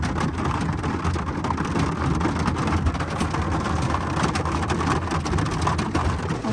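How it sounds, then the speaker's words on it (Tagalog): Heavy rain pours steadily and loudly close by in the Philippines, a dense constant hiss and patter with no break, with faint rumbles underneath. "Lakas ng ulan, naririnig pa dito"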